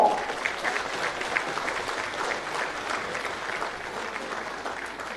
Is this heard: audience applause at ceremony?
yes